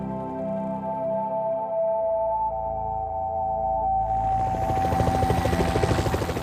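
Helicopter flying over the besieged Sinjar region, a steady droning engine whine that swells as a rhythmic rotor chop grows louder and closer toward the end.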